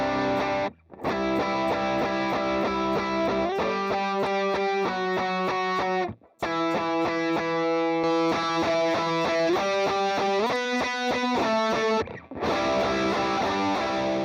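Electric guitar played through a worship-style multi-effects preset with its drive turned down, sustained chords with light distortion and shimmering modulation, loud and close, with brief gaps between chord changes.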